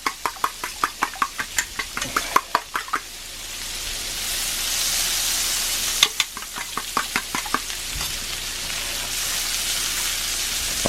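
Butter melting in a cast iron skillet for breakfast potatoes and eggs: a run of sharp knocks and scrapes at first, then a steady, bright hiss of sizzling that keeps going with a few more taps mixed in.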